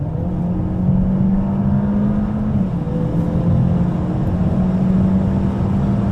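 Inside a Peugeot 508 PSE plug-in hybrid at about 160 km/h, a steady low hum of engine, tyre and wind noise fills the cabin, even and moderately loud with no talking.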